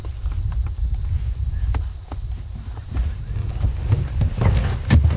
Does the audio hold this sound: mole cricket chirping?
yes